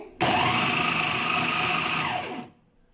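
An electric chopper whirs at high speed, chopping cooked chicken for a club sandwich: a steady, loud motor drone starts abruptly, holds for about two seconds, then winds down and stops.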